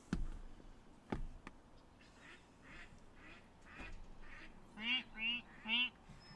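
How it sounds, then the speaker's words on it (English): Ducks quack outdoors in the distance, a run of soft scattered calls that ends in three louder, evenly spaced quacks. "There's ducks."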